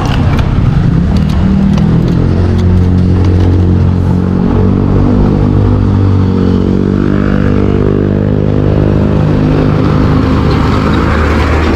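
A Kawasaki Versys 650 motorcycle engine starts and revs in Baguio, its loud, close, steady rumble rising and falling with the throttle through the whole stretch, with no voices.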